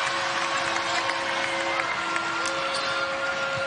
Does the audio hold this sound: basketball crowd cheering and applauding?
yes